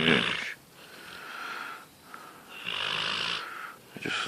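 A pet dog snores loudly in rhythmic rasping cycles while sprawled between two people in bed, several long wheezy breaths in a row, close and alone.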